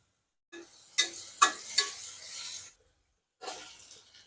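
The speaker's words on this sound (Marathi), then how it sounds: "हिंग जिरं हळद कांदा टाकला" Asafoetida, cumin, turmeric and onion dropped into a hot pan give a close, crackling sizzle with a few sharp bursts that fades out, then a second shorter sizzle after a brief silence.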